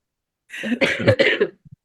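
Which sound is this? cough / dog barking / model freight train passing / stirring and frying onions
cough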